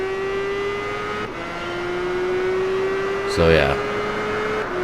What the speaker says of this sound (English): we are in a Honda CBR 1000 RR for a lap around Suzuka